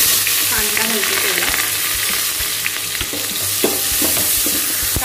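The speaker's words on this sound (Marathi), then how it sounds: "तेल गरम झाले, आता मी कांदा घालते।" Chopped onions fry in hot oil with a loud, dense sizzle that runs throughout. Scattered clinks and scrapes come from a spoon stirring the pan, and no one speaks.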